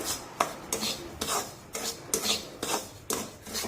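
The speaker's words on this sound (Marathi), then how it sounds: "आता यामध्ये हे काळे मनुके टाकूया आणि पुन्हा एकदा थोडस हलवून घेऊ" A spoon scrapes roasted semolina with black raisins around a pan, giving rhythmic rasping strokes about twice a second, close and steady, with no talk.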